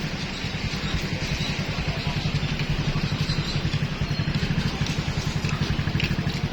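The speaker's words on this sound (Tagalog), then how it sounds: "Maraming motor mga guys," Dense traffic full of motorcycles near the Redemptorist church, a continuous buzzing clatter of small engines idling and moving close by.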